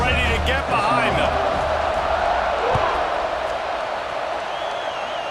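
A stadium crowd roars in College Football 26 as a steady, broad wash of cheering that holds under a commentator's talk, with a brief bounce-like thump partway through.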